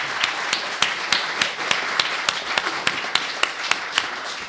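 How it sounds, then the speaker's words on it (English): An audience at a panel event on the FBI and religion scholars claps for the panelists, sparse individual hand claps ringing out at a steady pace over a soft wash of room noise. "I would like us all to give a warm round of applause to the panelists."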